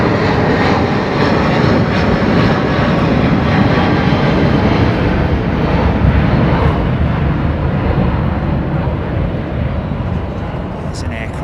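A Delta Airbus A330-200 jet at London Heathrow Airport gives off a loud, steady roar that fills the whole stretch without letting up.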